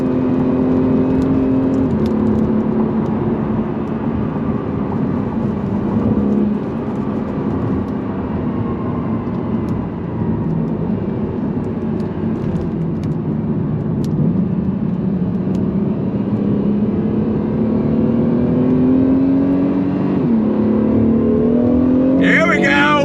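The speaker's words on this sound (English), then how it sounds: "Coming from that twin turbo V6." A 2022 Acura NSX Type S with a twin turbo V6 accelerates in a steady, loud, sustained engine drone that rises and falls in pitch through the gears, heard from inside the car.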